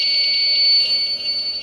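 A power supply's alarm in an ultracapacitor UPS setup emits one steady, piercing high-pitched tone once the voltage reaches 11.1 volts. It is loud and continuous, with no talking.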